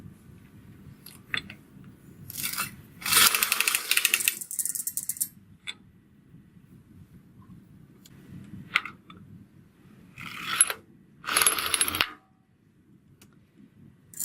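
A domestic knitting machine carriage knitting a tubular start, front bed one way and back bed the other: clattering mechanical passes in short bursts separated by quiet pauses, close and fairly loud.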